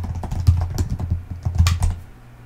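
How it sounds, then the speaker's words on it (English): Quick typing on a computer keyboard, a short run of close, crisp key clicks in an irregular rhythm while entering a job-search query. "I'm going to type project manager."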